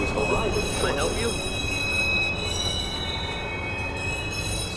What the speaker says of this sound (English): Southbound train.